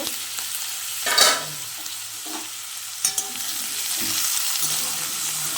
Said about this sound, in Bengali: ঢাকনা খুলে আমি ভালো করে নাড়তে থাকবো সবজিগুলো ভালো করে নেড়ে দেবো